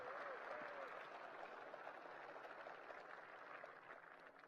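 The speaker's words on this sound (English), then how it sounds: "A round of applause for our silver medal sponsors" Steady, distant applause from a crowd thanking silver medal sponsors at a sports event, a soft continuous wash of clapping with a faint tonal sound near the start.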